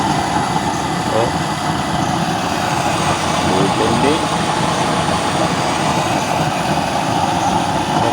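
Burner fitted with an adjusted 24-hole nozzle, firing into a 3- or 4-inch chamber, gives a loud, steady roaring blast close by throughout, with speech over it.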